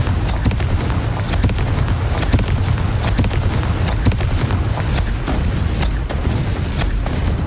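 Confringo spell blasts in Hogwarts Legacy, a dense, loud barrage of repeated booming impacts and crackling bursts, with no talking.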